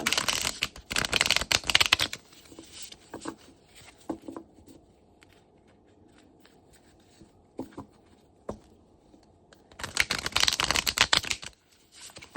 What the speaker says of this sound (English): enjoy my shuffling